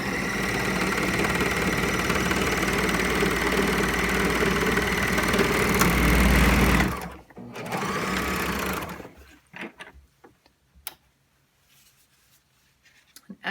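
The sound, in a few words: serger sewing the edge of denim jeans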